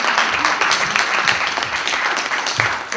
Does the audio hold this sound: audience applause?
yes